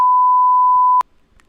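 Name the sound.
censor beep sound effect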